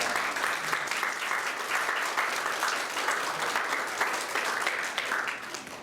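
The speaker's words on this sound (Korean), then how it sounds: "우리 잘 오셨다고 우리 박수로 한번 환영하겠습니다." A church congregation at a Sunday service and family retreat applauds to welcome someone back, steady dense clapping from many hands throughout, fairly close and even.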